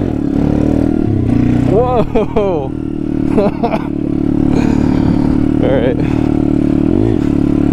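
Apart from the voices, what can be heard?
SSR 140cc pit bike engine revving during wheelie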